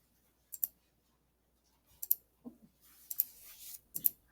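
Sharp computer mouse clicks while drawing with a line tool in SketchUp, a few isolated clicks close up, then a quieter scattering of clicks and faint movement noise, with no voice.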